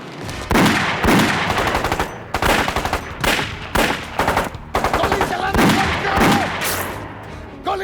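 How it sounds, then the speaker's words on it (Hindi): Film gunfire in a climactic shootout: repeated bursts of machine-gun fire, loud, sharp and close, separated by short gaps, with a voice briefly audible between volleys. "अपने आदमियों से कहो गोली चलाना बंद करें"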